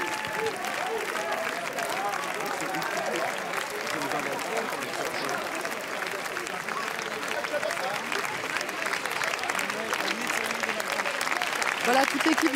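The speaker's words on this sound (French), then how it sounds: "Écoutez ça, écoutez les applaudissements du public pour Eva Husson et son équipe." A large crowd applauds a film team on the red-carpet steps at the Cannes festival, dense continuous clapping with crowd murmur, steady from start to finish and swelling slightly at the end.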